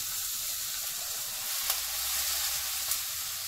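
Beef steak sizzles loudly in a hot pan, a dense, continuous close hiss with faint pops and one or two brief scraping stir sounds, no talking.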